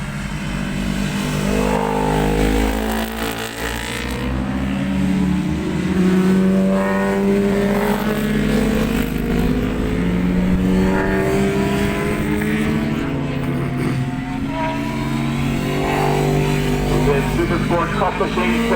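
Superbike racing motorcycles at the Kirkistown race circuit in Northern Ireland, a continuous roar of engines revving and passing at moderate distance, with a voice speaking over the racing noise.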